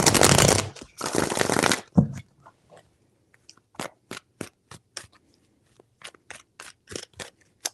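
Tarot cards are riffled loudly in two long bursts up close, then a series of short separate snaps and taps as they are handled.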